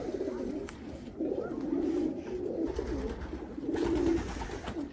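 A racing pigeon in moult coos in low, rolling repeated calls, close and fairly loud over a soft background hiss.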